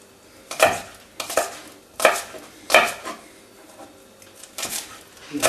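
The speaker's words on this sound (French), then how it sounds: "Alors les aillés, on va les couper en petits morceaux comme ça." Knife chopping leeks into small pieces on a cutting board, about six distinct sharp cuts at an uneven, unhurried pace, close and clear with no talking.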